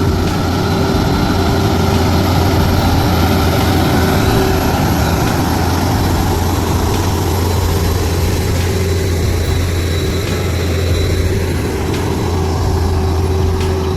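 A heavy off-road truck engine roars loudly and steadily as it climbs a mountain pass, a constant low droning rumble with no pauses.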